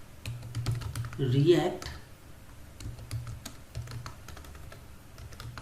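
Typing on a computer keyboard while setting up a React project, a steady patter of clicky keystrokes running throughout under a voice speaking.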